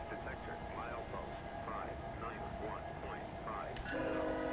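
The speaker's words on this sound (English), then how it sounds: "Your coal train's ready." Coal train rolling in the Trainz railway game, a steady rumble with squealing, warbling tones over it and a horn-like chord near the end, under continuous radio-style speech.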